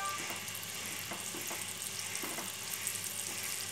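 Finely chopped garlic fries in melted butter, giving a soft, steady sizzle close by with a few faint clinks of a utensil and no talking.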